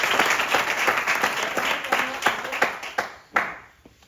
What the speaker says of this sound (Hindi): चाहूंगा एक बार जोरदार तालियां होनी चाहिए।